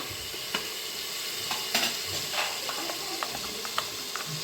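Mutton frying in a pan with tomatoes, a steady close sizzle and hiss with occasional stirring scrapes, a voice speaking over it.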